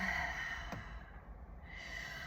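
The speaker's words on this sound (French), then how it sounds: "On respire" One slow, soft breath in and out, close and quiet like a sigh, during a calm relaxation exercise over a steady faint hiss.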